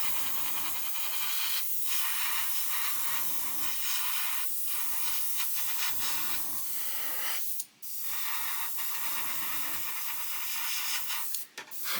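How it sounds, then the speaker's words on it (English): An airbrush or spray can hisses as paint goes onto an Airfix 1/72 Vulcan model. The spray comes in repeated bursts of a second or two with short pauses between them, and there is steady background noise throughout. "Now go the opposite way, spray that way so the overspray doesn't go over the wing."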